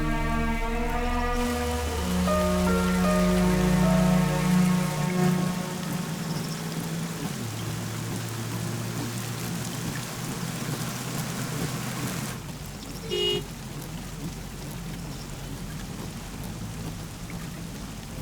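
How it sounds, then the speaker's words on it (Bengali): Heavy rain pouring steadily and loudly throughout, a dense continuous wash with a brief sharper spatter near the end, while a sustained low musical drone fades out early. "সহজে থামবে না, বৃষ্টি।"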